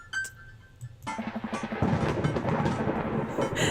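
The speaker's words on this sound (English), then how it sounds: "Thunder cracks and a door bursts open." Thunder crack in the Dream Daddy video game, a brief quiet lead-in followed by a sudden rumbling burst that swells and rolls on, loud and continuous to the end.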